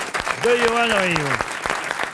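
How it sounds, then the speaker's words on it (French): Brief clapping from a man applauding himself on a French radio panel game show, heard under a speaking voice throughout. "Il s'applaudit"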